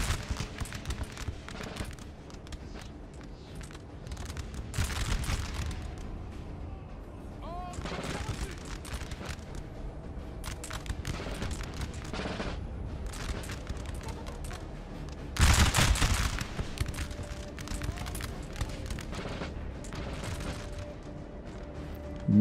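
Massed musket volleys from a Napoleon: Total War battle crackle in bursts across a broad front, with a sharper, louder volley near the middle and a steady din of distant fire throughout.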